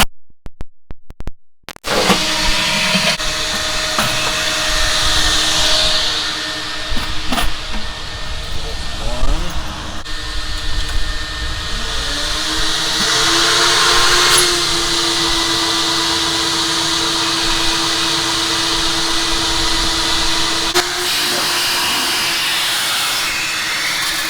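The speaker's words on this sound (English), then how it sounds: "So I'm going to start with the vacuums. We've got 4 vacuums." Four coin-operated vacuums at a car wash run steadily, a loud continuous motor whine and rushing airflow that holds for the whole stretch, its pitch shifting slightly partway through, with handling noises at the start.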